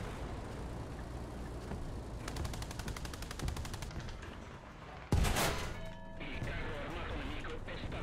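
Gunfire in the shooter game Centauro ROMOR: a rapid rattling burst of automatic fire, then a loud close crash-like shot and trailing echoes, with a voice talking over parts of it.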